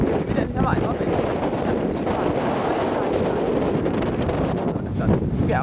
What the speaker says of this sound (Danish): Og det blæser som en høvlet.